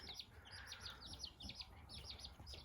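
Baby chicks, including a barred rock, chirp in a quick string of faint, high peeps, recorded quietly and close by, with no talk.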